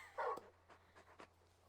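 A large dog panting and whimpering in the Final Fantasy XVI video game, a brief yelp-like burst at the start then soft rhythmic panting breaths, quiet and close, with no talk.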